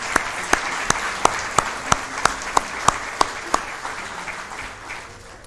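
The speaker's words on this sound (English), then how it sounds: "Can we give Catholic representatives a round of applause as well?" Scattered clapping from a small crowd, with a dozen or so sharp claps standing out over a softer patter that fades toward the end.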